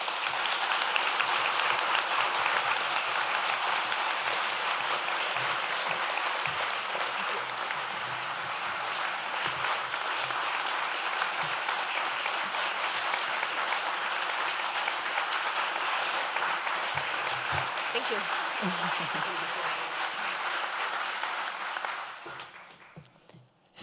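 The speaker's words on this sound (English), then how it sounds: "Please give her a warm applause." An audience applauds to welcome writer Oksana Zabuzhko, a dense, steady wash of clapping from many hands that carries on loudly for over twenty seconds before fading out at the end.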